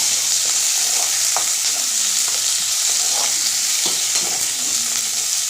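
Semiya upma, vermicelli, stirred and fried in a pan, with a loud continuous sizzle and repeated scraping strokes of the spoon close by, and no talking.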